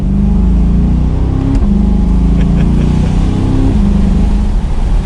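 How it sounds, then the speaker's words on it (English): A loud, close 2021 Chevrolet Corvette Stingray convertible engine idles with a deep rumble, then its pitch rises and falls as the throttle is blipped. "Give it a little bit of gas."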